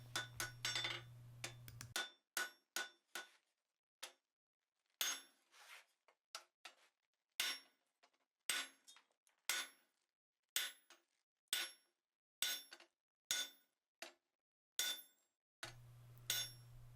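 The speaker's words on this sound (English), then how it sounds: "just give it a tap with your hand hammer" Steady hand-hammer taps on a flatter against steel while forging a grille frame, about a dozen sharp metallic clinks spaced roughly a second apart, close up, with a low hum at start and end.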